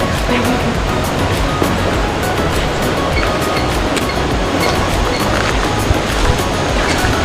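Loud, steady rushing water roars continuously at Rathna Ella waterfall, Sri Lanka, a dense broadband wash, with no clear speech.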